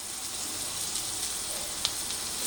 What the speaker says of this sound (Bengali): আর যে সসটা রেডি করে রেখেছিলাম এবারে উপর থেকে ওই সসটা আমি দিয়ে দিচ্ছি।